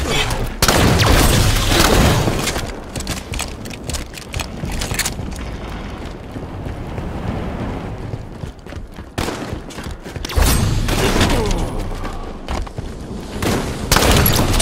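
Shotgun blasts in the Infection game mode, loud booming shots in uneven bursts mixed with other gunfire and game noise across the whole stretch, loudest at the start and near the end.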